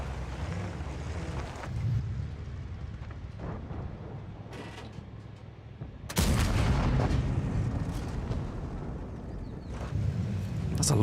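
Tanks fire in a World of Tanks style battle game: a large blast bursts in around the six-second mark and rumbles on, with scattered booms and creaks before it over a steady low drone and no talk.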